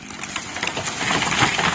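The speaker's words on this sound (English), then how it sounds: "He split it, and when it fell, it popped." A split double tree crashes down outdoors, giving a loud, sustained burst of cracking, splintering wood and dense rustling branches that builds in intensity.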